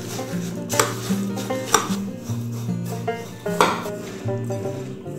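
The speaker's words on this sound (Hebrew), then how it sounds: "אני מוסיפה אותה על הביסקוויטים. מערבבת," Melted butter is stirred into crushed biscuits in a bowl for a crumb cheesecake base. A utensil scrapes and clinks against the bowl in irregular close strokes over a steady tonal background.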